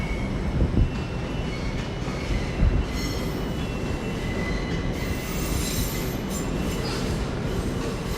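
A light locomotive rolls into London Paddington station, a continuous rumble of wheels on rail with faint squeals and a couple of heavier thumps early on, steady at moderate distance.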